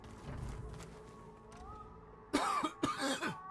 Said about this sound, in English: Cough is back.